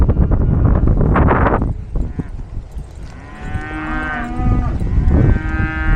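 Cattle in a Texas feedyard moo loudly and close by, a long drawn-out low call followed by harmonic bellowing, over rustling, hoof movement and farm background noise.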